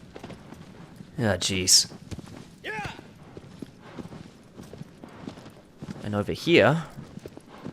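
Horse hooves clip-clopping while riding in the video game Shadow of the Colossus, a few short bursts of footfalls amid game sounds, with someone talking over them.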